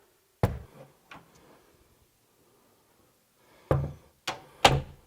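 A bathroom door in a small woodworking shop thumps and knocks, one solid bump followed by a lighter tap, then a pause and a quick run of three heavier thuds close by, with no talking.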